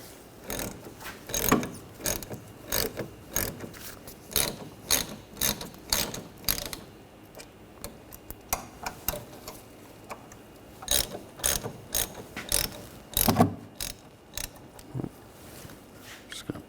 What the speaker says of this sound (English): Using a 7mm hex socket, loosen these caliper bolts up.